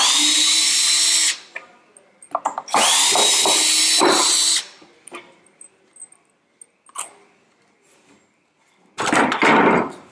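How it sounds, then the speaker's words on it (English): A power drill backs screws out of a timber mitre box in two long, loud whirring bursts near the start, with clatter and handling between, then another short burst at the end. "remove all of the screws that we put in earlier on"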